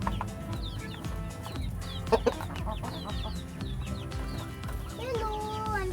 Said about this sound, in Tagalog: Gusto agawan ng mga heritage chicken.